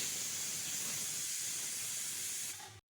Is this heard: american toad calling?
no